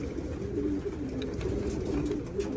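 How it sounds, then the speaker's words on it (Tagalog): Several racing pigeons coo in soft, overlapping low calls, continuous and close, over a steady background hum. "nagparonda tayo ng mga ibon natin doon"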